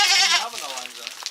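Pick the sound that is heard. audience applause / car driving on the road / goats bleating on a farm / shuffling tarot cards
goats bleating on a farm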